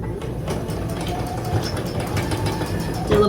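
A sewing machine runs steadily with a dense mechanical whir and rapid needle clatter while back stitching along a quilt binding, close and continuous throughout.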